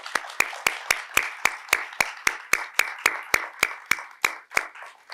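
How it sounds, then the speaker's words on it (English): Audience at an MA creative writing graduate reading applauding the readers, a run of about twenty sharp, evenly spaced claps, close and distinct, with little else around them. "So let's give them all a big round of applause."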